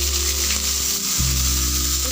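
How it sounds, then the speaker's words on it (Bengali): Bitter gourd pieces fry in oil in a wok, a steady close sizzle with a brief stirring shuffle midway and no talk. "উচ্ছেগুলো আগে ভেজে নেব।"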